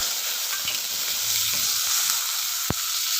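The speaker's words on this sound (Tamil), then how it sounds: "பெரிய வெங்காயம் ஒன்று இது நல்லா வதங்கட்டும்" Sliced large onion sizzles loudly in hot oil with whole spices, cardamom and curry leaves for egg kurma, a dense, steady frying hiss broken by one sharp clack of a spoon against the pan.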